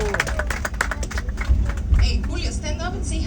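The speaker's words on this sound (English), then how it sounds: "So let's give a big applause to Mr. Julio." An audience on a Carnival Valor cruise excursion applauds its bus driver, with a burst of scattered clapping and crowd noise heard under talking voices.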